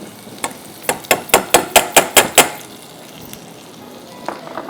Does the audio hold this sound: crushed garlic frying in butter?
yes